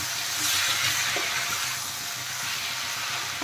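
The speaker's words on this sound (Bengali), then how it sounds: "এখন মশলার সাথে আরেকটু কষিয়ে নেব বেশ ভালো করে।" Masala spice paste with green chillies frying in a pan for a drumstick (sojna) curry, a steady soft sizzling hiss throughout with no talking.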